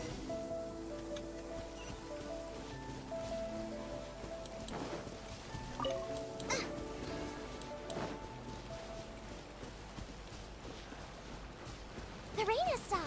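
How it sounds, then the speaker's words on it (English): Steady rain patters in the video game Genshin Impact as a continuous wash of falling drops, with musical tones and game effects layered over it at moderate volume. "Дождь пошел."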